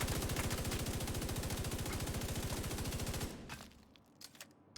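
Rapid, sustained automatic fire from an MG5 machine gun in the video game The Division 2, a dense rattling burst for about three seconds that cuts off into quieter scattered game sounds.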